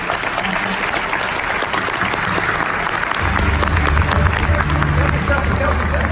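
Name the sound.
audience applause for a panel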